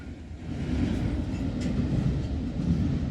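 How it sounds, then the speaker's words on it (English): Short CSX freight train rolling past on the rails, a steady close rumble with faint wheel clatter, continuous and without talk. "Man, I figured it'd be a bigger train than that."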